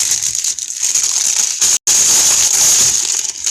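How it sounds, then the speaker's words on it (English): Plastic packaging holding cross stitch fabric and thread crinkles and crushes loudly and close up, continuous rustling with one brief silent break. "Sorry for the rustling."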